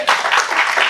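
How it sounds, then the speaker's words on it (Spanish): A church congregation at a Bible study claps for Christ, a brief burst of dense, loud applause from many hands, close and continuous. "dale palmas a Cristo"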